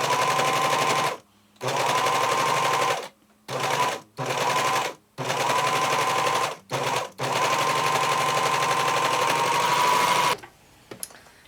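An Admire Air 5000 sewing machine gathers fabric into a frill, stitching in fast buzzing bursts of varying length separated by short pauses, close and clear with no talk.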